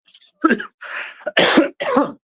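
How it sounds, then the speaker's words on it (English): A person coughs several times in short, harsh bursts, close by, with brief pauses between the coughs. "I'm coughing because I like to choke"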